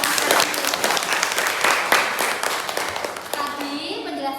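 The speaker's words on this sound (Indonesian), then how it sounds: "tepuk tangan untuk kelompok Mas Erwin" Classroom applause for a student group during a school guidance lesson, brisk clapping from many hands that thins out toward the end.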